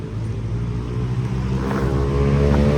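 A Honda Activa scooter passes close by during a Ganesh arrival procession, its steady engine drone loud and continuous, mixed with other street traffic rumble.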